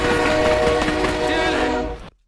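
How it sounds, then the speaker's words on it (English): A loud train sound effect plays alone for about two seconds, a dense rumbling rush with horn-like tones, then cuts off abruptly. "How about the train sound effect?"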